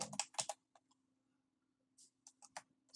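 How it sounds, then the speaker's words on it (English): Typing on a computer keyboard while entering a plugin name in WordPress, with quick, faint clustered key clicks at the start and end separated by a quiet pause, close and alone. "So we'll hit the Add New button and type in Contact"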